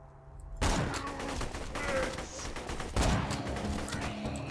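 Gunfire in Borderlands 2 erupts abruptly and stays dense, with repeated loud shots and a fresh burst near the end, layered over game effects and faint background sounds.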